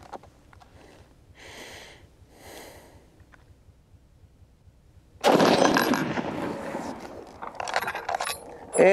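A 30-40 Krag-Jørgensen rifle fires one loud, sharp shot outdoors, followed by a ringing, crackling tail, after several seconds of quiet shuffling and handling sounds.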